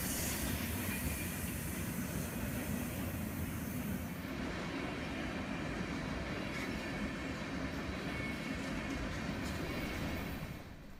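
A BNSF freight train rolls past on the Springfield Division line through Ash Grove's Main Street, a loud, steady roar of wheels and rail noise filling the whole stretch, close and continuous, with no voices.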